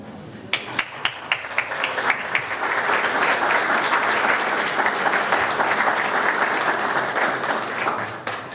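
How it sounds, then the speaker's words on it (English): A few scattered claps start things off, then a roomful of people at a historical society exhibit event breaks into sustained applause that fades out near the end. "so we can give you a round of applause"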